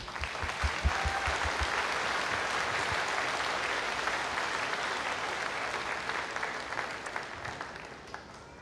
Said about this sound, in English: Could we take a moment to celebrate them with a round of applause?